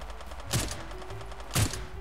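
Gunfire in the Knives Out shooter game, two sharp distant shots about a second apart over a low steady background hum.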